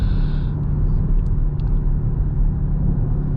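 BMW XM SUV driving on the road, a steady loud low engine and road rumble throughout with no voices.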